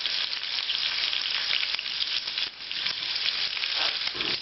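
Beef bones browning in a hot pan over fairly high heat for a classic French brown beef stock, giving a steady, close, dense sizzle and crackle that holds throughout with a brief dip midway.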